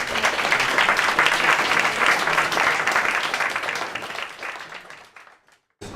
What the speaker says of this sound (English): please give a round of applause for us.